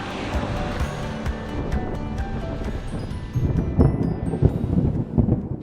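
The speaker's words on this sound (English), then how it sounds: "We've just been hit by another big thunderstorm." Wind roars and waves crash against a sailboat in a midnight thunderstorm mid-ocean on the Indian Ocean, the rumble swelling louder in the second half, with no talking.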